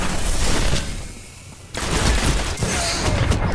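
Gunfire in the video game Destiny during a Crucible match, dense bursts of rapid shots that drop briefly to a quieter lull before erupting again into loud sustained firing.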